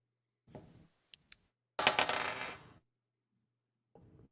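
Dice clack and roll across a table during a tabletop role-playing game: a short rattle, two sharp isolated clicks, then a longer, louder tumbling clatter and a final brief rattle, close and without talking.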